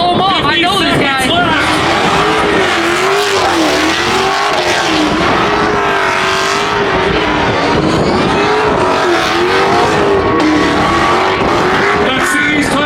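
A car at a large car meet revs hard and spins its tires, a loud continuous roar with rising and falling engine pitch and tire squeal, while people talk and shout over it throughout.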